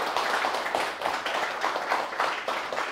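An audience at a metal drummer's workshop claps in a rhythmic, pulsing patter, moderately loud and close, with no talk over it.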